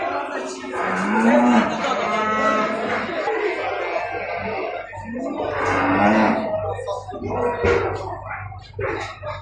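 Cattle low and moo at the Maştağa livestock market, where sheep, goats and cattle are sold, and a crowd talks loudly over the calls throughout.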